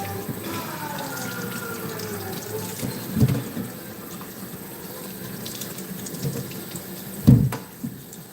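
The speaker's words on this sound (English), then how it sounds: "So we rinse all of these." Tap water runs steadily and softly into a sink while fruit is rinsed under it, with a couple of faint knocks and splashes of handling and no speech.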